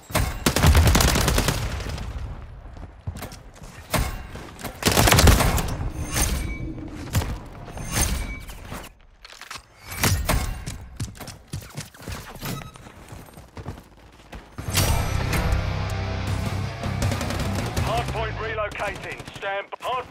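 Gunfire in Call of Duty: Modern Warfare 3 on PS5, repeated loud bursts of automatic fire and single shots in close, irregular clusters, with in-game voice callouts in between.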